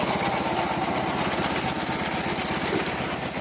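A Prykarpatets mini tractor engine runs steadily after starting, a loud close chugging drone with a fast even knock that holds constant throughout, with no talk over it.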